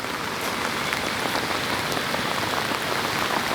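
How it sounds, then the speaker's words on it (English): Heavy, warm rain pours steadily at a fishing venue, a dense, unbroken hiss of drops drumming on surfaces close by, loud and even throughout with no voices. "the rain is horrendous"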